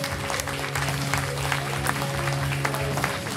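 An audience at a 2019 fashion show in Carvin applauds in a dense, sustained wash of clapping that stays steady throughout, with background music humming underneath.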